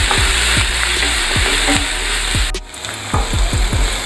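Curry leaves, garlic and ginger sautéing in a pan, a steady close sizzle with repeated rhythmic scraping and stirring strokes, briefly dipping before the frying resumes.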